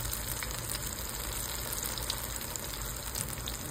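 Banana batter frying in hot oil for Thai fried bananas, a dense, continuous crackling sizzle heard up close and steady throughout.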